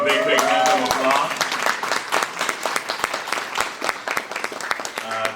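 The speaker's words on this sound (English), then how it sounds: "Let's give a big, big round of applause." Audience applause for event sponsors at a community gathering, a dense wash of clapping with sharp individual claps, mixed with cheering and overlapping voices throughout.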